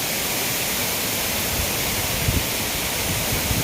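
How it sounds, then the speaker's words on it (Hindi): Badhkhaman waterfall in monsoon, water plunging some 75-80 feet, a loud continuous roar and hiss of falling water heard close, steady throughout with no voices. "देख रहे हैं झरना"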